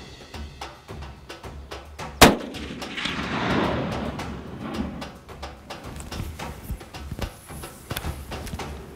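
A single sharp rifle shot on an African hunt rings out close and loud, followed by a rustling, scraping stretch and scattered clicks and handling noises.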